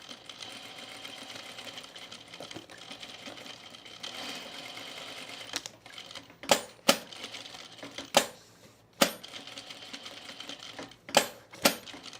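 An overlocking serger stitches seams on denim jean shorts in bursts of quick rhythmic whirring, separated by pauses and a few sharp clicks and knocks, up close with no talking.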